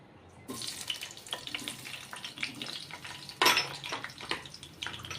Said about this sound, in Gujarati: આપણું તેલ ગરમ થઈ ગયું છે સૌપ્રથમ આપણે એમાં કેપ્સિકમ એડ કરશું